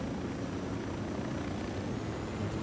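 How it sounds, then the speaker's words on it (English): Helicopter rotor and engine drone from Ghost Recon Wildlands, a steady low whirring roar as the aircraft comes in to land, holding even throughout with no voices. "Let's bring the helo in down here"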